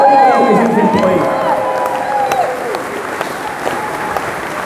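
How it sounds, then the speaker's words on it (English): Audience applause at a Free Speech Union event, a dense sustained clatter of clapping with some cheering, loud at first and gradually thinning over several seconds, with a voice heard briefly amid the crowd. "So a round of applause for our case team, our legal team, and all business employees."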